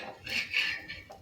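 A besan chila with cucumber and carrot is scraped and lifted off a hot pan with a spatula in a few quick, faint metallic scrapes.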